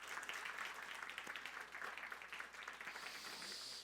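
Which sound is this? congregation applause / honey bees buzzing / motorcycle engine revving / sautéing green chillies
congregation applause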